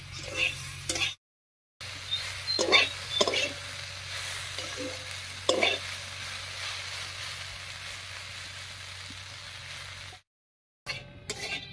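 Water spinach greens cook uncovered in a pan over low heat, giving a soft, continuous sizzle with a few louder stirring scrapes, broken by two short stretches of silence.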